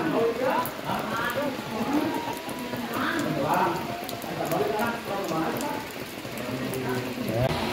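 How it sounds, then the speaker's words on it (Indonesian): Rain falling on an outdoor fishing spot in Indonesia, a steady patter of drops on surfaces, close and continuous, with voices talking over it. "Walaupun hujan turun, yang namanya mancing itu tetap bertahan di lapaknya masing-masing."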